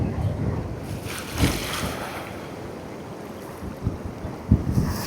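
Ocean waves washing onto a Sri Lankan beach near Galle, a steady wash of surf with wind buffeting the microphone and a few louder surges.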